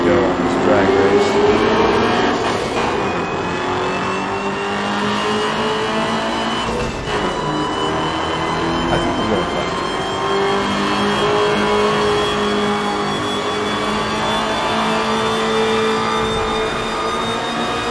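Car engine revving and pulling hard through a drag race in the Night Runners racing video game, a loud sustained engine note that rises steadily in pitch, with someone talking over it throughout.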